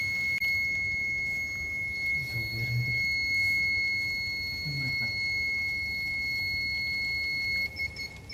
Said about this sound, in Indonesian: Di sini pompa menyala, buzzer menyala, LED juga menyala